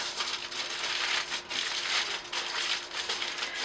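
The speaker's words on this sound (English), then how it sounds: "And then we just kind of crumple them up." Paper cut-out figures get crumpled up by hand, giving a steady crinkling and crushing rustle that swells and eases in waves, close and fairly quiet.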